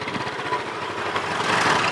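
A motorcycle engine runs steadily at close range, giving a loud, continuous buzzing drone that rises slightly toward the end, with no voices.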